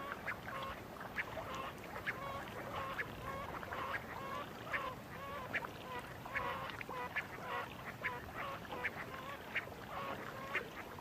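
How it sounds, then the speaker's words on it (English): Giant coots on a high-altitude lake in the Atacama call repeatedly, a steady series of honking, clucking notes at moderate distance over a constant outdoor background hiss. "The giant coot's large size probably helps them withstand the harsh climate."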